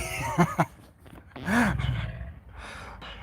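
A tiger roars at close range: one deep, drawn-out roar swells up after a couple of short huffs, then fades into a quieter rumbling breath.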